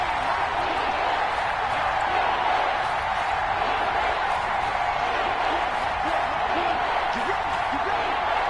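A stadium crowd in an American football video game roars continuously, a dense, loud wash of cheering that stays steady throughout without a break.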